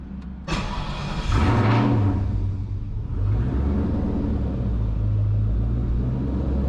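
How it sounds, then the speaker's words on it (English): A Ford Mustang engine with a Holley EFI Terminator system cranks and fires with a sharp burst, then settles into a loud rumbling idle that wavers unevenly on the dyno. "So it fired up, ran for a little while, and then it died"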